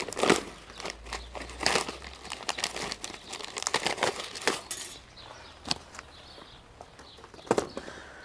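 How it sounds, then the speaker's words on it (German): Plastic sack of fire glass for a gas fire table being cut open, giving irregular crinkling and crunching bursts close by, busiest in the first half and then sparser, with no talk. "Den Sack schneide ich jetzt auf."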